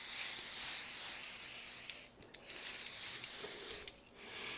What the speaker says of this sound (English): at this point, we are gonna spray this parchment.